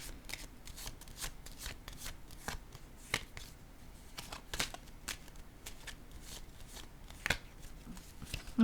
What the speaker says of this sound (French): Et je vais piger aussi une carte sur cette carte qui nous parle d'argent.